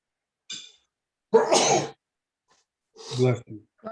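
Sneezing in a budget committee meeting: a short burst, a loud sneeze, then another sneeze-like burst after a pause, with silence in between.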